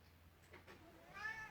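A cat meows indoors, one rising, drawn-out call near the end of a short, otherwise quiet stretch with faint household background.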